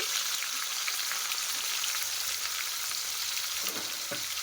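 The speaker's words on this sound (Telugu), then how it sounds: "అదే ఆయిల్లోనే మనం డైరెక్ట్గా ఆనియన్స్ అయితే వేసేసుకుంటున్నాము పచ్చిమిర్చి కూడా వేసేసుకుంటున్నామండి" Chopped onions and green chillies frying in hot oil in a pan, a steady, dense, close sizzle that continues without a break, with a few faint stirring scrapes near the end.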